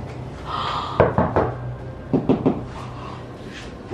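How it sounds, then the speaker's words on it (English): Knocking inside the walls of a house comes in two quick groups of three sharp wooden raps, close and distinct against quiet room tone. "They're knocking."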